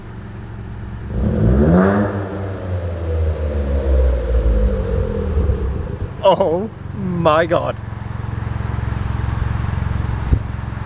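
A Ford Fiesta Zetec S Black Edition fitted with a Cobra exhaust revving close by, a long rising rev and then two quick sharp blips, with a person reacting aloud.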